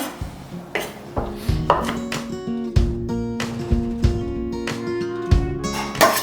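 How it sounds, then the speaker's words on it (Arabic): Onion being finely chopped for traditional Mardin kuba, a sharp series of knife strikes on a board, irregular but steady, close and loud with no voices. "مثل ما تشوفون انثرم البصل ناعم"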